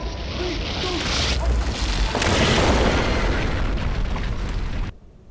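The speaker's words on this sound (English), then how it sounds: "She destroyed the castle." A castle being destroyed by a huge explosion in the video game Enderal: a loud, sustained rumbling blast with debris, lasting about five seconds before cutting off sharply.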